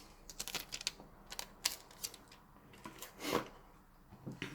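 Protective plastic film being peeled off a Samsung DeX Pad, heard as a series of close, crackly tearing and rustling bursts with one longer rip near the end, no talking.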